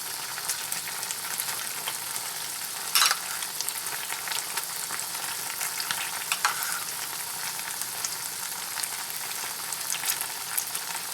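Slices of Spam fry in a pan with sauce, giving a steady crackling sizzle with scattered pops and a louder scrape or stir near the start, with no voices.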